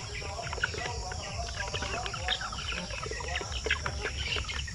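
Chickens cluck softly in steady, overlapping calls from a farm flock of pure-bred Basilan native hens, somewhat distant, over a constant background hum.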